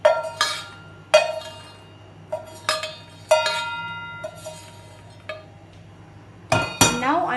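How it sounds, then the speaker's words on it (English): Roasted almonds dropped into a mortar in several bright clinking bursts, with hard pieces rattling against the bowl at irregular intervals. Each burst rings briefly before fading, up close, with no talking. "So I will transfer this to my mortar."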